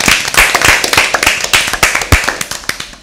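Applause for a winning team at a Bible quiz: a burst of many hands clapping at close range, dense and steady for a few seconds, with faint voices underneath.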